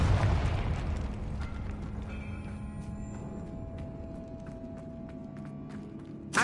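A Confringo spell explosion in a Harry Potter video game, a loud blast at the start that rumbles and fades into a long, low ringing tail with scattered small crackles and a final thump.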